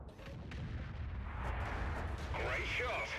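In World of Tanks, an artillery gun fires with a deep, rumbling boom that rolls on through most of the moment, with a voice talking over the later part.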